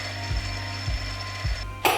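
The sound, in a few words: metal lathe center drilling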